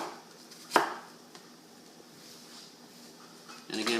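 A knife chops a vegetable on a cutting board: one sharp, close chop, then a quiet pause and a short burst of cutting near the end.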